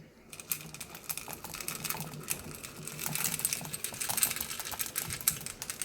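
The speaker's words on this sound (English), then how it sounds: "we're going to sprinkle those chocolate chips onto the hot mixture" Chocolate chips sprinkled by hand onto a hot toffee mixture spread over saltine crackers, making a rapid, irregular patter of light ticks and clicks that runs steadily throughout without any talking.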